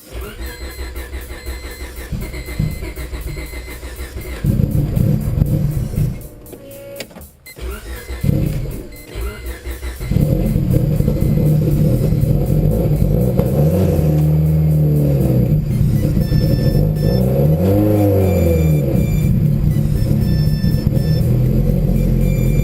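A 650 hp twin-scroll turbo Honda Civic engine cranks, catches and starts, settling into a loud, steady idle, close up and without talk.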